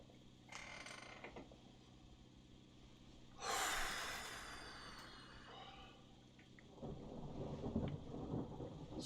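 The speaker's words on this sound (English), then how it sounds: "Storm moving in." Thunder rumbles and cracks through a thunderstorm in the Russian Fishing 4 fishing game, with a loud rolling burst midway, a fainter roll before it, and steady rain and wind hiss throughout.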